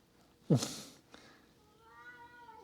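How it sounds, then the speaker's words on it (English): Cats in a Japanese castle town let out one loud, close meow, followed after a pause by a fainter, drawn-out mew. "but I found cats."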